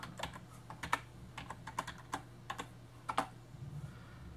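A password is typed on a computer keyboard, an irregular run of about a dozen crisp close key clicks with brief pauses between, over a faint steady hum.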